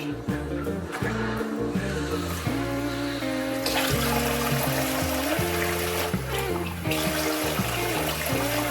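A little water pours steadily for several seconds into a dish cooking in a rice cooker, a continuous splashing hiss over a steady tonal background hum.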